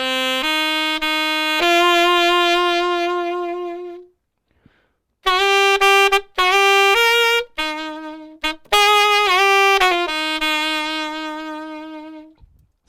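Alto saxophone plays a smooth jazz song melody alone, held tones and short phrases with clear rich harmonics, separated by a couple of brief pauses.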